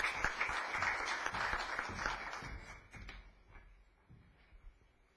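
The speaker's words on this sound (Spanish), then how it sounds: "pido, por favor, nuevamente fuertes aplausos" A burst of applause from a conference audience, loud at first and then thinning out and fading over a few seconds.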